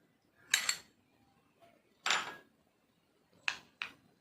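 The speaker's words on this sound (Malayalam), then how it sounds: "അപ്പോൾ പാല് നമുക്ക് മിക്സ് ചെയ്യാം" A spoon clinks and scrapes against a bowl while milk is mixed into a face pack, four short, close scraping strokes separated by quiet pauses.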